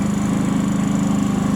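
Harbor Freight inverter generator running on its first start, a steady close engine drone with a low pulsing hum and no pauses.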